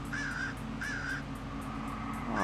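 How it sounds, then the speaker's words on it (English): Crows caw and swoop in the video game Albert & Otto, with two clear caws close together over a low game background and a rising whoosh at the end. "I hate these little fucking crows, man."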